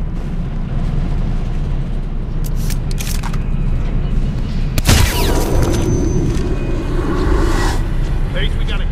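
A single loud gunshot from the stealth game Hitman Absolution cracks out sharply in the middle of constant background game noise and low rumble, with scattered echoes and ambient sounds after it.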